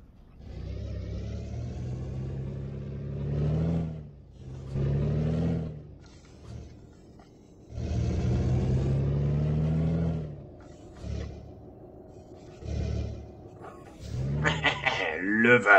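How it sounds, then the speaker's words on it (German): A tuned Daimler Freightliner Inspiration truck of about 650 horsepower roars in Euro Truck Simulator, its engine note swelling and dropping in long repeated surges, loud and close, alone without talk. "Ist, glaube ich, irgendwie ein getunter Motor. 600 50 PS oder so. Deswegen brüllt der so."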